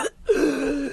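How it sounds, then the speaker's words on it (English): A person on a late-night live broadcast gives a single short cough, then follows with a longer throaty, voiced clearing sound, close and loud, with no words. "Is that a cough effect or is somebody actually coughing?"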